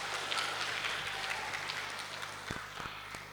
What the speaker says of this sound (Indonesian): tepuk tangan untuk Kakak Brian